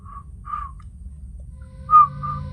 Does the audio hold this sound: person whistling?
yes